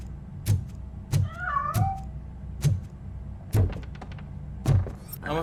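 A cat meows and yowls in RoboCop: Rogue City, a couple of rising, wavering cries standing out over a string of loud, evenly spaced thunks and knocks that dominate the scene.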